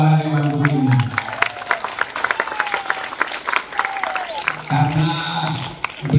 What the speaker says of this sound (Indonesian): tepuk tangan untuk para dewan guru ini